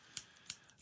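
Scissors snipping, three quick crisp metallic cuts spaced evenly, close and quiet with no talk.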